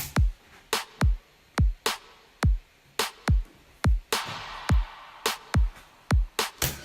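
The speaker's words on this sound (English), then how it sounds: "The clap, snare drum and kick drum together sounds like this." Clap, snare drum and kick drum hit together with vintage-style reverb, a punchy beat of roughly two hits per second repeating steadily, loud and alone.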